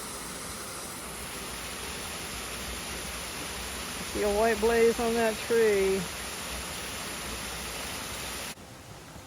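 A waterfall beside a stream on the Appalachian Trail gives a steady, even rush of falling water throughout, with someone speaking briefly over it near the middle.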